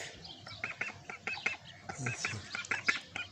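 Wild ducks and ducklings calling outdoors in nature, a string of short repeated quacks and chirping calls close by, with people talking intermittently over them.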